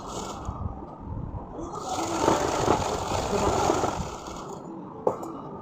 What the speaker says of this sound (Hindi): अब हम ऐसे लगा लेंगे सिलाई।